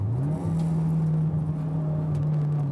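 A drift car at Honjo Circuit in Japan holds a steady, loud engine drone while the handbrake is pulled into a corner, with a brief dip in revs near the start and no speech.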